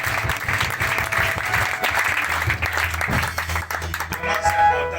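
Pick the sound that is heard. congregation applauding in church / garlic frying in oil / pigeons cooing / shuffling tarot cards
congregation applauding in church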